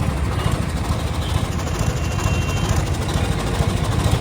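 A loud, steady low rumble of a tractor engine idling nearby, constant throughout with a faint mechanical whine partway through.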